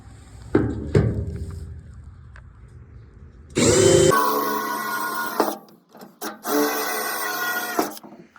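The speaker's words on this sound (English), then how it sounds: "I'm gonna go ahead and start drilling" A power drill whirs loudly in several bursts, drilling small holes, starting and stopping, after a few knocks and handling sounds nearby.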